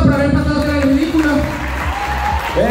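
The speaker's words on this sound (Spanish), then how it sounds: "Tengo un fuerte aplauso por haber pasado tras el ridículo." Crowd at a men's modeling contest applauds under loud overlapping voices, with people talking and calling out over scattered clapping throughout.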